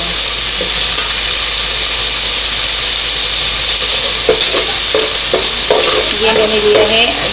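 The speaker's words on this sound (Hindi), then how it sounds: "टमाटर की भी थोड़ी भुनाई करेंगे।" Chopped tomatoes sautéing in a pan for street-style chana chaat, a loud, dense, continuous sizzle and hiss with scattered stirring clicks and scrapes toward the end.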